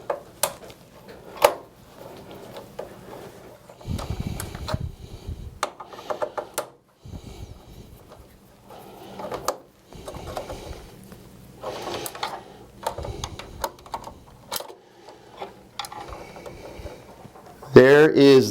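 Six screws are backed out of a DirectStream audio component during kit installation, giving scattered clicks, taps and scrapes of metal and a screwdriver at close range, broken up by short quiet gaps.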